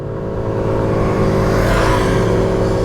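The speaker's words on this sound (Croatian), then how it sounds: "Koje je ovo ludilo od motora?" A loud engine roars close by and swells as it passes a 50cc scooter on the road, a steady rumbling drone under rushing wind noise.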